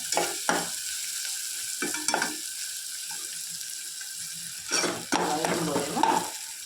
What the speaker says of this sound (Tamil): போட்டு நல்லா வதக்கிடலாம். நல்லா வதங்கட்டும்.